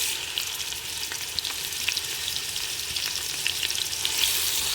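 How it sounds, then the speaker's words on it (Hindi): Onions and ginger-garlic paste fry in a pan with a steady, close hiss, small pops and crackles scattered through, and no talking. "इसको ज़रा सा भून लेंगे"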